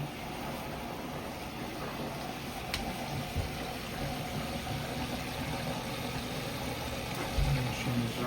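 Samsung washing machine spinning at high speed during a test run after a spider replacement, giving a steady low mechanical hum and rumble with faint rattles, continuous and fairly quiet throughout.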